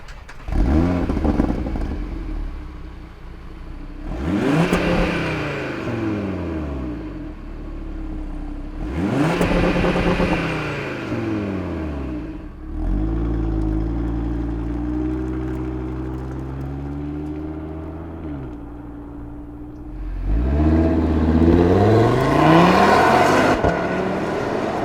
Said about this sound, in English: Before we take a minute to savor the glorious 5-cylinder noises